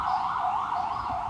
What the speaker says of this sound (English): It was the only ambulance I saw today.